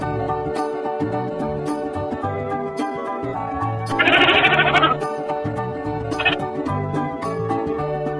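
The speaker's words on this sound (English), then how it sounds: "Goat." A cartoon goat bleats once, a loud wavering bleat lasting about a second, set over a bright, busy musical backing.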